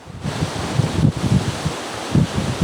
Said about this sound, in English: as we take a walk on this very windy day